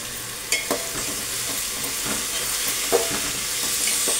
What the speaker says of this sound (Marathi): तांदूळ थोडे पांढरे होईपर्यंत आपण तेलात परतून घेणार आहे